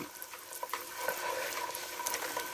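Ripe plantains sizzle steadily in a pan with cinnamon, cloves and anise, a dense continuous frying hiss with small crackles and a few stirring clicks, close and fairly loud, with no voices.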